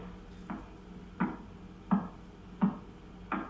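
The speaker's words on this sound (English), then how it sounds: "you record the signal coming out of that telescope, and you plug it into just some speakers." Five soft, evenly spaced clicks of a pulsar signal from a radio telescope played through speakers, about one every 0.7 seconds, over a low steady hiss, faint and regular like a slow pulse.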